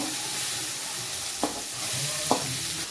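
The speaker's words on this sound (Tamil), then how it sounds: "வெங்காயம் போட்டு வதக்கணும்." Onions sauté in a pan with a steady close sizzle, broken by two sharp scrapes of a stirring spoon against the metal, and no talk.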